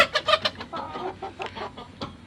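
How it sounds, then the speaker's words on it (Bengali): Native hens clucking inside a village coop, a run of quick, close, bright clucks in bursts with short pauses and no speech. "এই যে এখানে সম্পূর্ণগুলো আমার দেশি মুরগি থাকবে।"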